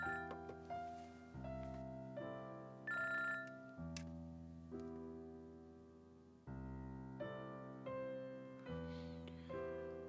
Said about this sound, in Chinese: 好了，打电话了。